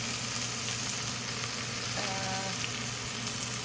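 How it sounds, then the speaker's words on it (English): Chopped onion frying with mustard seeds in a pan for Indian lentil spinach curry, a continuous dense sizzle and hiss close by, with a brief tonal sound partway through and no speech. "Let me go in with my onion."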